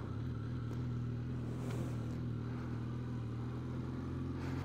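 A Benelli 502C motorcycle, a 220-kilogram bike, pulling away in first gear, its engine giving a steady low droning hum heard from the rider's position, even and continuous without distinct revving peaks.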